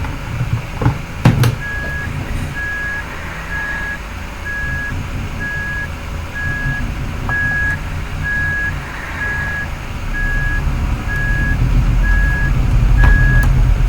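Reversing beeps from a Renault Premium truck backing up to dock in Euro Truck Simulator 2 on snowy narrow roads, a steady evenly spaced beeping over a continuous engine rumble that grows louder toward the end.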